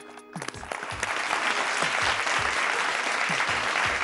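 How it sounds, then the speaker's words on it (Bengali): Game show studio audience applauding for a mother-in-law, a dense sustained burst of clapping that swells quickly and stays steady and loud throughout. "তা আগে একটা শাশুড়িমার জন্য একটা হাততালি দিই নি আমরা?"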